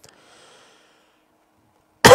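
A single sharp, loud cough bursts out near the end of the clip after near silence and a faint breath, from a person teaching Quranic recitation.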